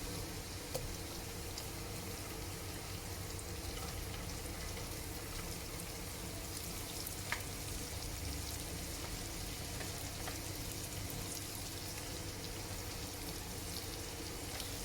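Onions frying in a pan with ginger and garlic, a steady dense sizzle and crackle that holds evenly from start to finish, close and moderately loud with no voices.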